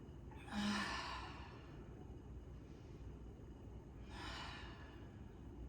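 Two slow, deep breaths taken during a stretching workout with a twist across to the other side, each a soft, airy exhale a few seconds apart, close and quiet with no talking.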